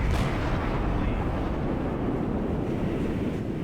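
Naval gun salvos from the cruiser Cleveland in the World of Warships video game, a loud, dense boom at the start that fades into a sustained low rumble with wind-like and surf-like noise, no talk.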